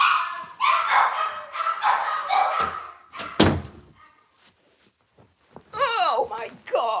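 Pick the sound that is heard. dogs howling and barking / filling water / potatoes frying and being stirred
dogs howling and barking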